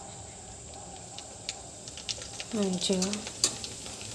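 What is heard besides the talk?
deep frying pani puri in hot oil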